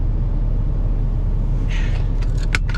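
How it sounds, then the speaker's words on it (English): A truck engine idles steadily to charge its batteries, a loud, low continuous rumble close by, with a few light metallic jingles near the end. "45 minutes is how long I've let the truck run to charge the batteries."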